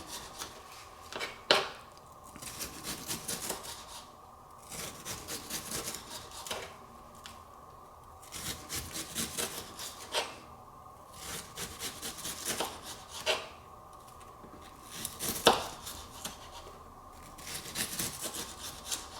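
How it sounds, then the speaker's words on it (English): Knife slicing a mango into thin strips for Thai mango salad, a series of soft, rhythmic rasping cuts on a board, close and fairly quiet, with no talking. "I'm just going to cut it like this into these fine slices"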